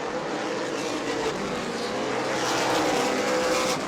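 Race cars roar steadily around an Auburndale dirt track during a charity race on worn American Racer tires, a continuous broadband engine drone that swells slightly as the pack passes, with no voices.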